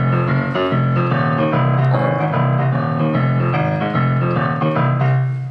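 A boogie woogie piano plays the Swampoodle bass figure in rolling broken octaves. The low pattern repeats steadily and close up under sustained upper notes, with no voices.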